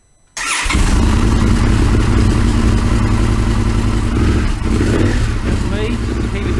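An Indian FTR 1200 motorcycle turns over and catches from cold, then settles into a loud, steady, slightly lumpy idle close by, with a brief dip in the rumble midway.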